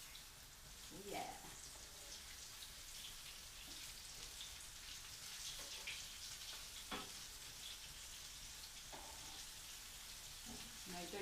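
Lentil burgers frying in a pan give a soft, steady sizzle with occasional spatula scrapes and taps, fairly faint and even throughout.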